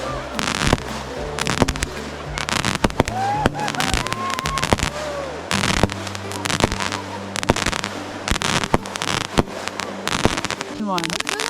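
New Year fireworks burst outdoors in freezing Alaskan cold, a dense run of loud sharp bangs and crackling pops, some whistles rising between them, while people cheer and shout throughout.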